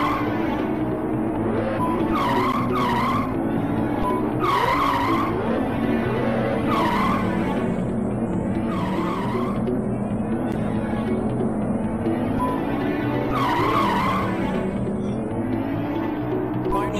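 Racing car in the Amiga game Wheels On Fire skidding repeatedly, with sharp tire squeals recurring every couple of seconds over a constant loud engine drone and game sound effects.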